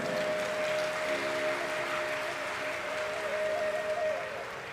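Steady applause from an audience at a Hindi-language talk rolls on evenly for several seconds without a break, then eases slightly at the end.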